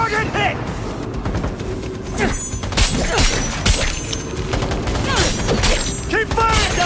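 Gunfire bursts in the video game Cyberpunk 2077, rapid shots and booming impacts mixed with game effects, with voices talking over the action throughout.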